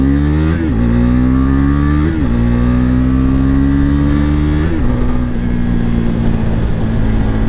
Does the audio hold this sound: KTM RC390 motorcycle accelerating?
yes